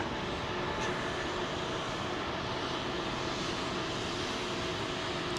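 A Delta Boeing 767-400 jet at Heathrow gives off a steady, broad engine roar at moderate distance, constant throughout with no voices present.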